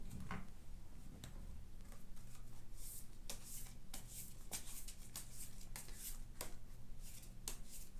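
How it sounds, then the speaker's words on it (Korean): Tarot cards are shuffled by hand at close range, a soft continuous riffling with repeated crisp flicks and slaps throughout, fairly quiet and with no voices. "카드 먼저 섞어 볼게요"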